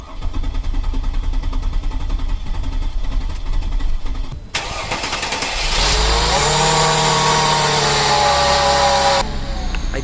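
A Mercedes C32 AMG with 270k miles cranks and fires up after an epoxy repair, then settles into a loud steady run with a rising whine, close to the microphone and with no talk.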